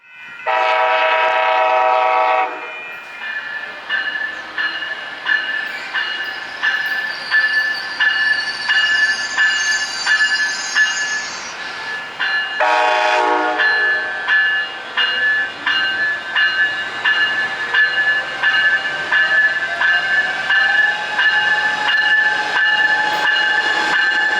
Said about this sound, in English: Next, we have a northbound coaster train pulling into the vacant platform